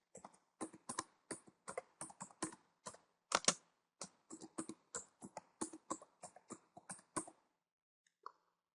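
Rapid keystrokes on a computer keyboard, clear and close, in uneven bursts of clicks with short pauses, ending in a lone final tap.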